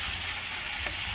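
Gochujang pork bulgogi sizzles loudly in a frying pan right after being flipped, a continuous close hiss and crackle with a small clatter near the end.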